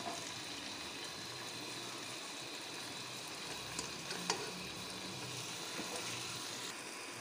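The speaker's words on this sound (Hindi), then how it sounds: "भून रहा है ये कोफ्ते भी और मसाला" Kofta balls and masala gravy for a chicken and mutton kofta curry fry steadily in a pan, a continuous soft sizzle with a few small pops and no voices.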